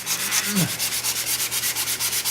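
A surface is sanded by hand with quick, even back-and-forth strokes, a steady rhythmic rasp that continues throughout, close and fairly loud, with no talking.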